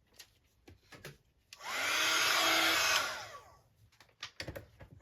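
A heat tool blasts a stamped paper card to dry it, a loud steady whirring roar lasting under two seconds, framed by soft handling sounds before and after.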